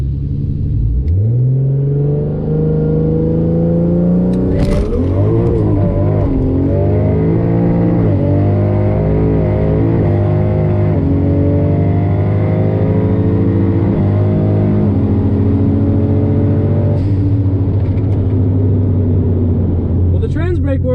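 A Barra-swapped Ford GT350 launches down a drag strip, its engine revving hard and climbing through repeated rising pulls with loud, close rumble as it accelerates away, fading slightly toward the end.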